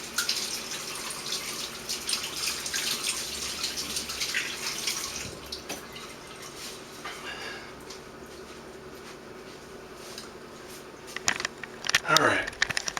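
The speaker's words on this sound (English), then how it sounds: "Gonna wash my hands real quick here" Hands are washed under a running tap in a home mead-making setting, water splashing steadily at the start and then tailing off into scattered drips and clatter, with a person talking partway through.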